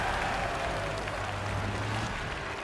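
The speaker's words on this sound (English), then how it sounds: "Cheers from the crowd as there's still time" A large arena crowd at an esports playoff match cheers and applauds in a steady, dense roar that holds throughout.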